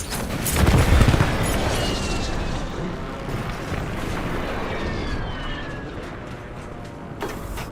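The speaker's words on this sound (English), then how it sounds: "Hostile airstrike incoming." Hostile airstrike in a shooter game's battle royale mode: a heavy close boom opens, followed by a long rumbling roll of distant blasts and debris that fades slowly, with faint voice callouts underneath.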